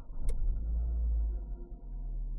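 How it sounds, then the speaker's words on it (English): A brief click, then the petrol engine of a 2025 Renault Captur turns over and settles into a low, steady idle rumble close by. "let's turn on the car"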